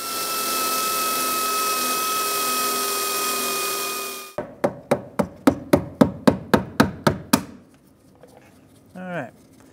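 A drill bores out a spot weld on the cab corner of a 2001-2006 Chevrolet Silverado 2500: a loud, steady whirring grind for about four seconds, then around a dozen sharp, evenly spaced knocks and a brief squeak.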